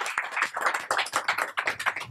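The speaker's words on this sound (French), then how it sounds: "Je vous demande de les féliciter chaleureusement par vos applaudissements." An audience claps for newly elected officers at a general assembly: a dense, steady patter of many hands, close and fairly loud, holding for about two seconds with no voices over it.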